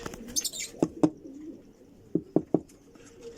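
A breeding pair of lovebirds laying eggs, giving a few short, sharp chirps and calls close by, spaced out against a quiet background with no talking.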